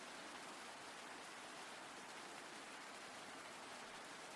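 Rain patters in a steady, soft, even hiss with no breaks, faint and continuous, during a quiet soft-spoken ASMR reading stream, with no voice over it.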